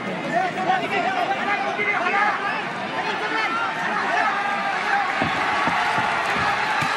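A dense boxing championship crowd cheers and shouts continuously during the fight, a loud, steady wall of babble and yelling with occasional thuds and claps, under a commentator's voice.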